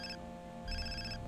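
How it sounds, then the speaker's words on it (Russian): A satellite phone rings in the video game Far Cry 3: two bursts of an electronic ringtone over a game soundtrack, fairly quiet. "Кто звонит?"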